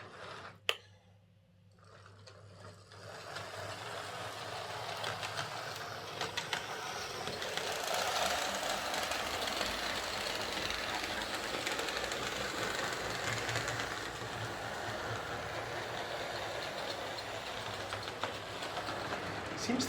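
A Hornby R352 Class 52 model diesel locomotive starts up after a click and runs steadily, giving a continuous whirring motor hum with a slightly uneven, lumpy rattle from the wheels and mechanism.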